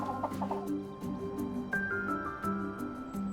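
Chickens kept in a community garden cluck softly and steadily nearby, a low murmuring stream of short calls with a brief higher note partway through.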